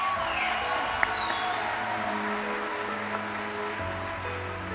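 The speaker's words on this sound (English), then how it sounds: "Let's give our gold-rated treasures one more round of applause." An audience at a state FFA convention session in Ohio applauds, a steady wash of clapping from a large hall crowd, moderately loud and continuous with no speech.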